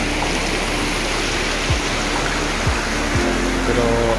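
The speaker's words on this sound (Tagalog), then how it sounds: "Ayan na po yung tubig." Water flowing steadily at King Kong Paradise in Pasuquin, Ilocos Norte, a constant broadband rush like a stream or small falls, loud and close throughout, with no voices.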